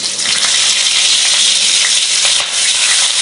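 Onion and chili fry loudly in hot oil with fennel and fenugreek seeds in a village kitchen, a dense continuous sizzle heard up close with no talk.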